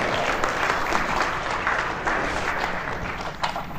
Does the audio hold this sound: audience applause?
yes